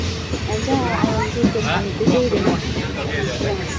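A local train arrives at Mangalore railway station, its steady rolling rumble and hiss continuous throughout, with people talking nearby over the noise.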